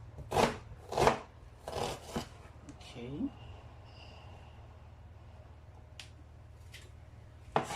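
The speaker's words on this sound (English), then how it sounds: "Wash it and chop them into smaller pieces" A knife chops through yam on a board, a few distinct cuts close by with quieter scraping and handling in between, then fading to a faint background.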